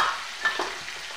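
Chopped tomato and spices are stirred in a frying pan for a cauliflower bhaji, giving a brief soft sizzle with a couple of spoon scrapes, close and alone.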